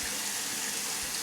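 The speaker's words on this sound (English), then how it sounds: "I just dampened my face with some really hot water" Hot tap water runs steadily into a sink for wetting the face, a continuous close hiss and splash with no talking.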